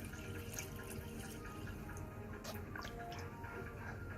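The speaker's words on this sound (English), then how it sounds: "it makes it so that you can pour water" Water pouring steadily into a waterproof wet bag, a continuous close trickle and splash running the whole time with no talking.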